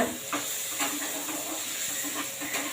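Oil sizzles in a pan while bitter gourd fries, a steady close hiss broken by faint scraping and stirring ticks every half second or so, with no talking.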